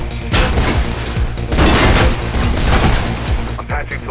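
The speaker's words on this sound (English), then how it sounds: "I can hear gunshots" Bursts of gunfire in the video game Mirror's Edge, rapid loud volleys and booms crackling through a busy soundscape with mechanical noises.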